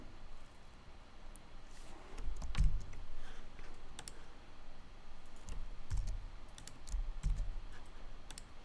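Quiet clicks from a computer mouse during Adobe software work, a few soft isolated taps spaced a second or more apart over a low background hiss.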